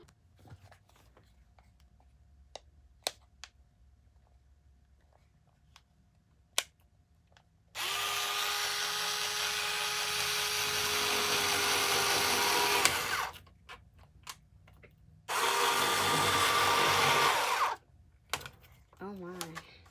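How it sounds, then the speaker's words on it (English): An electric cardboard cutter slices through cardboard in two sustained buzzing runs, the first about five seconds long and the second shorter, loud and close with faint clicks between them. "my handy dandy cardboard cutter to cut that shape out"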